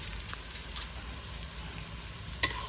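Onions cooking with salt in a pan until golden brown, a soft, steady sizzle with light crackles, one sharp clink near the end.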